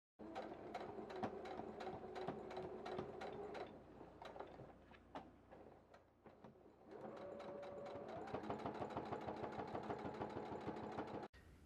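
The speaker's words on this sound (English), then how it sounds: "I'm going to sew it twice more on each side." A sewing machine stitches a strap onto a photography accessory bag in fast, even bursts of needle clatter. It pauses briefly midway, then resumes with a steady motor whine beneath the rapid stitching, close and clear.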